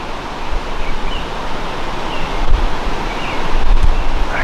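Strong wind roars outdoors in the New York countryside during a turkey hunt, a loud continuous rushing with gusts buffeting the microphone and swelling louder toward the end.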